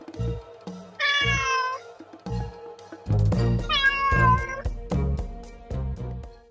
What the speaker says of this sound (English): I found the cat.